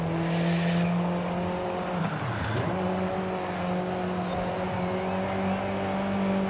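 A Lynk & Co 02 in a racing video game held at full throttle, its engine giving a steady loud drone with sustained tonal bands throughout, no voices.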